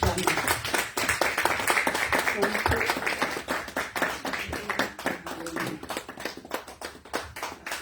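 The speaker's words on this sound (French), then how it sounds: "sous vos applaudissements, aidez-moi à accueillir le pasteur Germain." An audience at an evening church gathering for single people applauds to welcome a pastor, with sharp, irregular claps that thin out over several seconds, while voices are heard among them.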